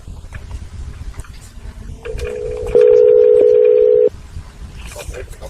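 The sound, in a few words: telephone call being transferred, ringing on hold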